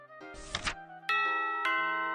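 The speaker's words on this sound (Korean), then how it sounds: "초인종 소리를 듣고 고개를 들어요." A doorbell chimes two ringing tones, a bright ding then a dong, each resonating clearly after a brief rustle.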